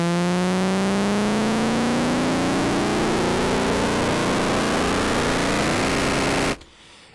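A buzzy tone from the Vital software synthesizer, with its LFO fade-in turned up, swells in gradually, its harmonics sliding and thickening over several seconds before cutting off abruptly.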